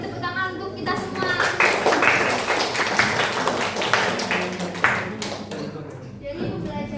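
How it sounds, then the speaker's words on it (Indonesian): A classroom audience at a microteaching practice claps together in a dense burst of applause that lasts several seconds, with voices talking over it. "beri tepuk tangan untuk kita semua"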